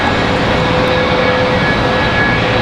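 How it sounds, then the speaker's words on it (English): An Airbus A319 jet at Charlotte Douglas International Airport rumbles loudly and steadily as it departs, a broad, continuous engine roar with a faint whine, alone without voices. "Got this A319 about to roll out."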